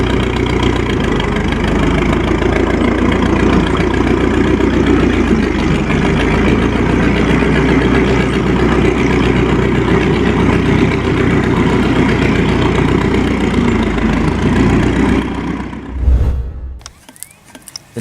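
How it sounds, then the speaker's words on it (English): A 1909 Blackstone heavy oil stationary engine idles steadily with a deep, rumbling low throb that continues for a long stretch, then cuts out near the end, leaving clanks and quiet. "The 1909 Blackstone is a classic heavy oil stationary engine."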